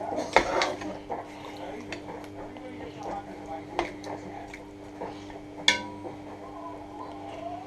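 Mutton is stirred in a hot pan with a few sharp metallic scrapes and clanks of a utensil against the pan, spaced irregularly over a quiet kitchen background.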